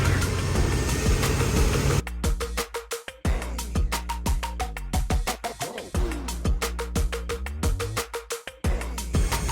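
An LS-swapped Unimog 404 engine runs roughly and sputters, loud and close, with rapid irregular popping bursts and stumbling revs that break up repeatedly over a steady low rumble.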